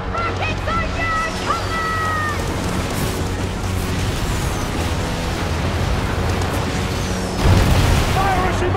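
Rocket explosions boom during a pirate ship battle in the Skull & Bones video game, with a heavy blast near the end over rumbling water and battle noise, while voices shout over the action.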